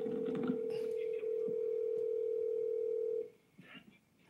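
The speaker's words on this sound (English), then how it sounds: "We get a little background noise as well as some ringing." A steady telephone dial tone on a conference call line holds loud and continuous for about three seconds, then cuts off, leaving faint background noise.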